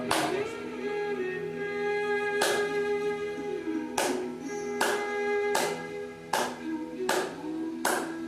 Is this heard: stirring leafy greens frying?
no